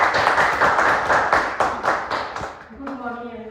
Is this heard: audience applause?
yes